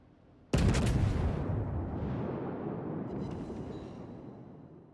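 Battleship Giulio Cesare's guns firing in World of Warships, one huge booming salvo erupting near and loud, then a long rumbling decay with faint later reports, no speech.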